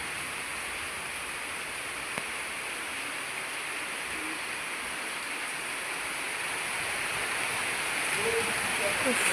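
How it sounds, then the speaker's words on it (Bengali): Steady, dense hiss of heavy rain pouring down, a constant wash of sound with no talking, growing slightly louder toward the end. "কত জোরে বৃষ্টি শুরু হয়ে গেল"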